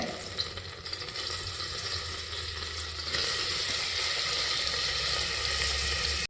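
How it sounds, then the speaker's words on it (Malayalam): A small piece of ginger and three green chillies fry in coconut oil in a cooker, giving a steady, close crackling sizzle that grows louder partway through, with no talking. "അതിലേക്ക് നമുക്ക് കുറച്ച് വെളിച്ചെണ്ണ ഒഴിച്ചു കൊടുക്കാം അതിലേക്ക് ചെറിയൊരു പീസ് ഇഞ്ചിയും മൂന്ന് പച്ചമുളകും കൂടി ചേർത്ത് കൊടുക്കുന്നുണ്ട്"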